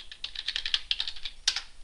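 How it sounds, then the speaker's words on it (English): Keys pressed on a computer keyboard, about a dozen crisp, close plastic clicks in an irregular quick run, with a louder pair near the end and no voices. "Also possible is to press the F2 key on the keyboard"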